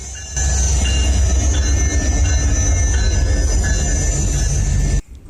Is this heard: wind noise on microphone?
no